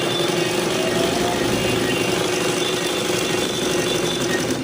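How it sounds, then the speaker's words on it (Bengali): A sewing machine runs continuously while stitching, giving a loud, steady, close-up mechanical hum and rapid rattle with no pauses. "আমি আরও খানিক মেশিন চালিয়ে আপনাদের দেখাচ্ছি"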